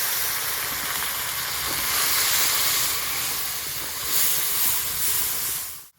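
Water poured onto Kashmiri chilli powder and turmeric frying in a pan sets off a loud, steady, hissing sizzle that lasts several seconds and cuts off abruptly at the end, with no talk.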